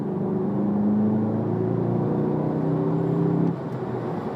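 A 2017 Volkswagen Golf GTI Clubsport engine hums steadily with rising harmonic tones as it accelerates, close and loud, then the pitch drops away near the end as it eases off.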